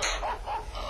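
A dog barks in a short, close burst, a couple of yelping barks over a noisy background.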